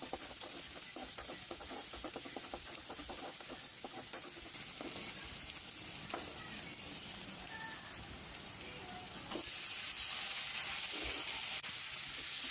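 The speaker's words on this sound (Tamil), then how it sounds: "வெங்காயம் நல்லா வதங்கினதுக்கப்புறம் தக்காளி அதில் ஆட் பண்ணிக்கோங்க." Onions and tomatoes sauté in a pan for spicy kara chutney, a steady soft sizzle with faint stirring scrapes that swells louder near the end, heard alone and quietly.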